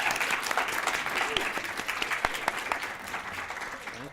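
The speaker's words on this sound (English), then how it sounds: "A round of applause for yourself." Audience applause at a Celtic folk concert at Green Mountain College, a dense, steady burst of many hands clapping that holds fairly loud for about four seconds.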